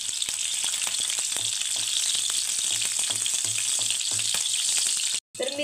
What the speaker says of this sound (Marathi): तर मिरची इथे छान अशी तेलामध्ये तळल्या गेलेली आहे।